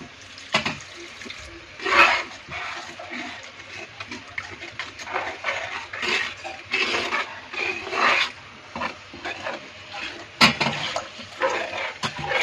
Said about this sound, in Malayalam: വെള്ളം ഒഴിക്കാൻ പോകുകയാണേ.